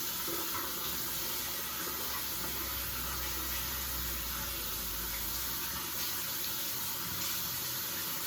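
Water from a sink tap runs in a steady, quiet stream as body scrub is rinsed off, a constant wash with no talking.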